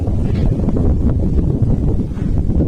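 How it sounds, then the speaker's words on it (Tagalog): Strong wind blows through a tree high up, pressing a constant low roar and rough buffeting against the microphone, with faint rustling on top. "Kahit hangin, malakas na hangin."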